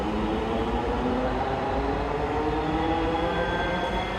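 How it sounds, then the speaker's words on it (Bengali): A metro rail train pulls out of the station with a steady rumbling roar and hum of wheels on track, continuous and fairly close, with no talk over it. "এই যে ছেড়ে দিচ্ছে ট্রেন"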